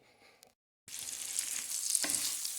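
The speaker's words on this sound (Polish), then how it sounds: "Cebulka już fajnie skwierczy, powolutku się, troszkę się zeszkliła" Chopped onion sizzles in a frying pan, a steady, close hiss of frying. The sizzle cuts in after a short silence, swells briefly once partway through, and no one speaks over it.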